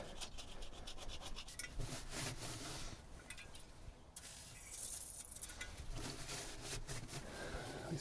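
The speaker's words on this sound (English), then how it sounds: "And maybe we'll just wipe down what we can see in here too." A cloth wipes around the inside of a Hitachi EX excavator's swing housing, making soft, continuous scrubbing and rubbing strokes nearby at low volume, with a brief pause midway and no voices.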